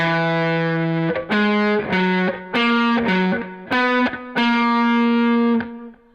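A distorted electric guitar plays a short sequence of sustained notes stepping through a scale, buzzy and loud with effects.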